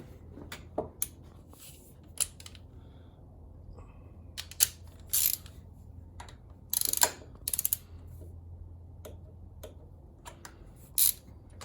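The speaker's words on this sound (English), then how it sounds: "now we're torquing down the cylinder heads as per the manual in this sequence" A torque wrench clicks as it tightens the cylinder heads of an S&S 113-inch motor on a chopper, with sparse, quiet ratchet ticks and several sharper bursts spread over a near-silent garage background.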